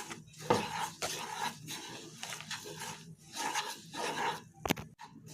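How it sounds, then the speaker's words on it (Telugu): Fried wheat rava is stirred into powdered poha for a laddu mixture, with repeated scraping and clinking of a spoon against a metal vessel in uneven bursts. "ఫ్రై చేసుకున్న గోధుమ రవరి వేసి బాగా కలుపుకోవాలి"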